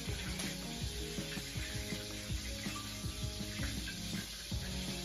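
Steady, close sizzling of a patty frying in a hot pan, a continuous crackle with faint scraping now and then, no talking.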